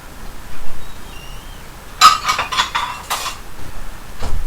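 A bowl is pulled from a stack of dishes with a quick run of ceramic clinks and knocks, a cluster of sharp hits followed by one last soft clack, close and with no talking.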